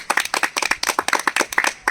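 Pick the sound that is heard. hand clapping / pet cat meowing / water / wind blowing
hand clapping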